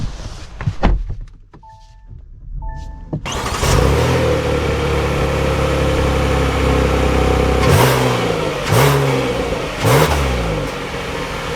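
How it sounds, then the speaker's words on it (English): A 2024 Kia Sorento's turbo engine revs hard while merging onto an interstate, with a few sharp thunks at the start, then sustained loud engine roar and road noise, marked by rising gear-shift sweeps near the end. "we'll get one last acceleration here as we're entering onto the interstate again."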